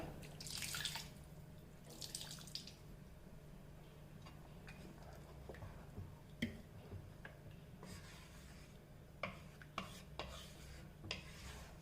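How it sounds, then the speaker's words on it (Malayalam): Water poured into a pot of home-style Kerala chicken curry that is already mostly cooked: quiet trickling and dripping with light clinks and stirring taps, faint and close, no voices. "വെള്ളം ഒഴിച്ചു കൊടുക്കുക"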